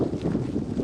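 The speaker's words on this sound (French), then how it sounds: "Le vent s'est levé avec la neige, c'est tip top." Wind gusting across a snowy mountain summit during a ski touring trip, a steady close rushing roar buffeting the microphone with no pauses.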